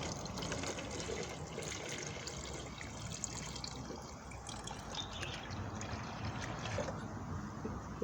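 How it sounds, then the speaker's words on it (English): Water poured into an outdoor tank of medaka fry, a steady broad gush and splash running throughout at close range, with no talk. "Go and get another litre of water and pour that in here."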